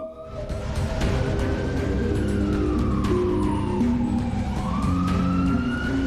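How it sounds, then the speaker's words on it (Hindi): A wailing siren rises and falls in long sweeping cycles over a steady low rumble of traffic and engines, loud and continuous, during a missile and drone attack on Israel. "सायरन की गूंज सुनाई दे रही है।"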